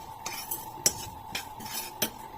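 Sesame seeds are stirred in a pan with a metal spoon, several distinct scraping and clinking strokes at an irregular rhythm over a steady low hum.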